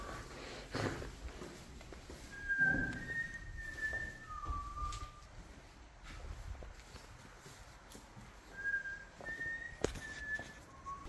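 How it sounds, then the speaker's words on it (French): A woman whistles short, high, sliding notes in two separate bursts, faint and slightly distant, over scuffing footsteps and hollow ambience inside an abandoned former gas company site. "Elle a sifflé, là."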